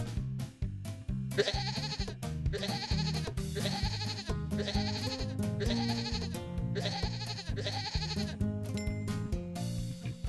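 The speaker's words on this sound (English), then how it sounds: "Goat!" Repeated goat bleats ring out in a regular rhythm over a bouncy, steady musical backing, each wavering cry cutting through the beat.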